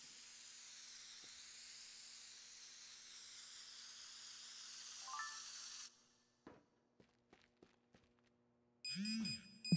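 Leftover air pressure hissing out of an aerosol can, a steady, fairly quiet hiss lasting about six seconds before cutting off abruptly, followed by a few faint clicks and a short tonal burst at the end.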